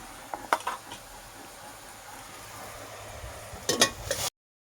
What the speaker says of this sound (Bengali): আবার এটা আমি তেল দিয়ে একটু শাকটা ভেজে নেবো।